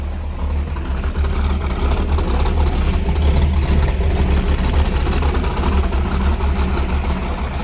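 A 1978 Pontiac Trans Am idling up close, a steady, loud, deep rumble with a lumpy low pulse that holds even throughout, with no voices over it.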